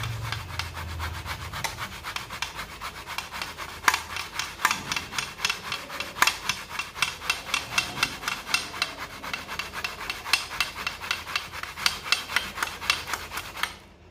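Raw banana (vazhakkai) scraped against a kitchen grater for podimas, giving a steady run of rhythmic rasping strokes, close and fairly quiet, lasting throughout with no talk.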